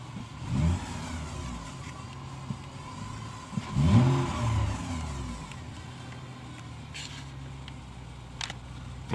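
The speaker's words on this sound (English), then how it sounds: "other than whatever's whining, it doesn't sound like a bad engine" A car engine revs in a couple of surges over a steady idle, with a thin whine running through it.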